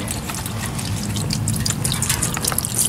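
Used motor oil draining steadily from a car's oil pan into a container, a continuous trickling, splashing pour that is close and fairly loud, with no voices over it.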